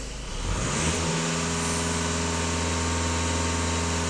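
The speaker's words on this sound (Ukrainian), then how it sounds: "Так, і газ в пол на обертах." A VW Passat B8 2.0 TDI 4x4 diesel engine pushed to full throttle, rising quickly from idle into a loud sustained high-rev drone that holds steady, close and without voices.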